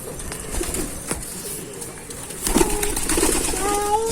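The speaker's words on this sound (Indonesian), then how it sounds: "Kasih makan burung ya?" Pigeons or doves coo and flutter nearby while being fed outdoors, with soft wingbeats and a scatter of bird sounds rising louder in the second half, amid light ambient noise and occasional voices.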